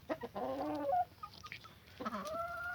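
Young rooster, spurs not yet grown, clucking inside a backyard chicken coop in two separate bursts of quiet, nasal clucks with a pause between them.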